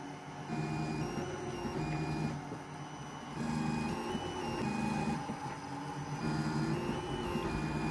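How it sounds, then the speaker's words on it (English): A 3D printer runs nearby with stepper motors whining in shifting tones, the pitch changing in short repeating passages as the print head moves, steady and moderately quiet with no voices. "Three D printer music."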